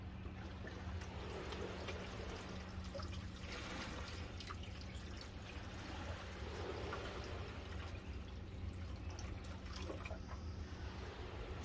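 Water pours from a container into the reservoir of a LetPot hydroponic growing system as a faint, continuous soft trickle and splash with no voices.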